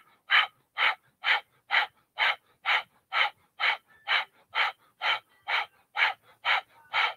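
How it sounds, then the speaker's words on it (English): Breath of fire during a Kundalini yoga flow: rapid, forceful nasal exhalations in a steady, even rhythm, about two per second, close and alone. "I'm going to drop my head and take breath of fire"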